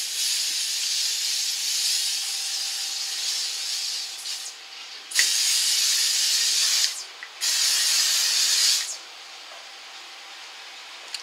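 Loud aerosol bursts of a makeup spray primer hiss in three long blasts separated by short pauses, close by with no talking.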